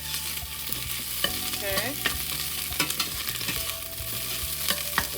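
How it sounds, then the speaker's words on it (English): Meatless spaghetti sauce is stirred in a hot pan, with a constant low sizzle and regular scraping and clinking spoon strokes close by, and a single short word spoken. "You want to give that a good stir."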